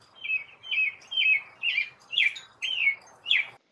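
An American robin sings a series of seven clear, rising and falling whistled phrases at an even pace, fairly soft, with no other sounds around.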